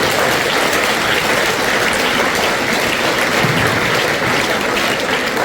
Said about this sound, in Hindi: एक बार ताली आपके टीचर्स को इस बात कर रहे हैं।